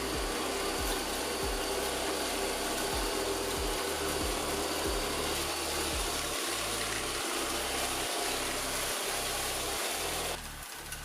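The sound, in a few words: Extravis V5 robot vacuum cleaner running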